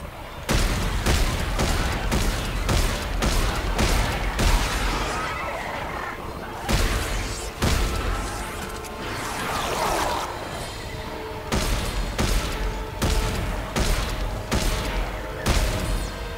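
Loud, rapid gunfire from the video game Dead Space 3 rings out in repeated bursts with booming impacts, the shots coming in quick clusters separated by brief gaps.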